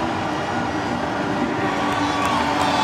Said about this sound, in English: Something for the fans to cheer about.